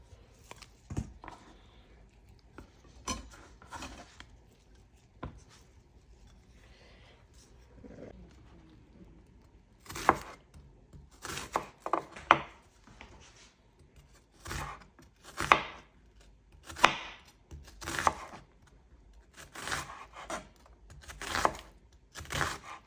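A knife chops seasoning on a cutting board for Jamaican-style shrimp pasta, starting with scattered soft cuts and then settling into a run of sharp, close, evenly spaced thwacks in the second half.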